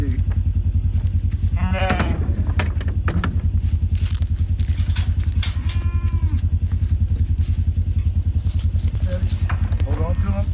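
A sheep bleats several times while being caught and held, its calls close and mixed with shuffling and a steady engine-like drone, as people talk over the commotion.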